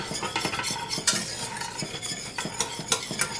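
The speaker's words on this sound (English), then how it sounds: "Now let's give it another whisk." Grits being whisked in a pot, a busy run of close scraping and clinking strokes with an uneven rhythm and no voices.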